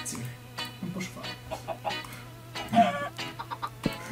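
Chickens cluck close by in short, irregular bursts, with several overlapping birds and a low steady hum underneath.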